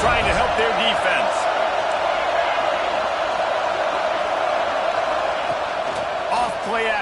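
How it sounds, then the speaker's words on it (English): A football video game crowd roars continuously in a stadium, a dense steady cheer filling the space while a commentator's voice talks over it. "Listen to this crowd just shaking the girders of this place"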